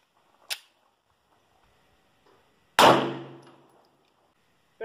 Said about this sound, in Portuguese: Disparo com munição Bonded, 124 grains.